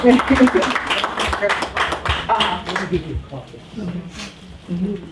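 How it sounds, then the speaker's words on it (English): Clapping from a small group at a community gathering, loudest at the start and then thinning out, mixed with overlapping voices and chatter. "Round of applause."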